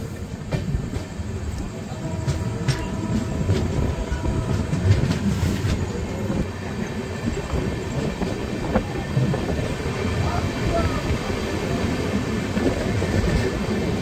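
The Humsafar Express pulls out of Dhubulia station, its carriages rumbling and clacking steadily at close range in a sustained, even roar with no voices.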